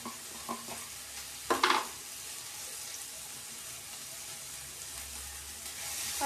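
Spices roasting in a pan for a stuffed brinjal gojju, a steady soft sizzle with occasional stirring scrapes and a brief louder clatter early on, close and without talk.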